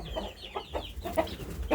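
Young Burmese chickens, a couple of months old, cluck in a steady string of short, soft calls at a moderate distance, with no talking over them.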